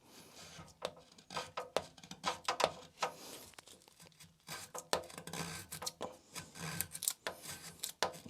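A Magnacut steel knife with a Funayuki edge cutting into a piece of wood, a series of quiet close rasping, scraping strokes in an irregular rhythm.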